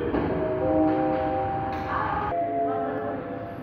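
A Czech Railways train departs from Chomutov station, a loud rumbling drone with sustained horn-like tones, heard at close range with no talk.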